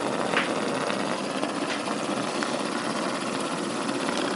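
A 38cc Stirling engine runs at about 1000 rpm with a steady, fast mechanical whir and faint ticking, even and continuous at moderate level.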